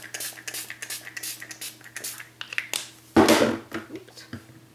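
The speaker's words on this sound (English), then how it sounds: "Spritz some more water on my palette here." A spray bottle spritzes water onto an acrylic paint palette, a few soft quick hisses followed by one louder, closer burst of spray, with no talking.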